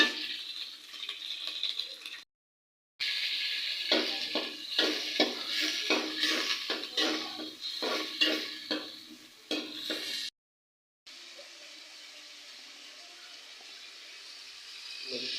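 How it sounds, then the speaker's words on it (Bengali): Fish frying in a pan, with steady sizzling and bursts of crackling and stirring, cut by two short silent gaps, then a softer, even sizzle continuing to the end. "মাছটা ভালো করে ভেজে নিতেছি"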